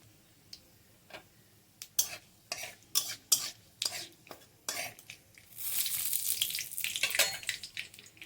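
Black mustard seeds, cumin and a bay leaf tempering in hot mustard oil: a few sharp clicks and pops at first, then a louder, continuous crackling sizzle building over the last seconds.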